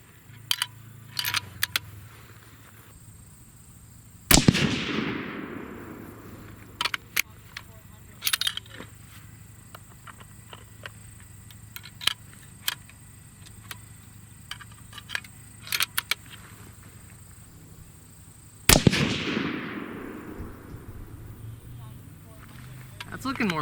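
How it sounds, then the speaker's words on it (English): Two sharp, heavy reports from a Savage 12 rifle firing 6.5 Creedmoor 156-grain Berger bullets ring out about fourteen seconds apart. Each shot decays into a long echo over faint clicks and handling noise. "we're going to go ahead and shoot these next couple groups here"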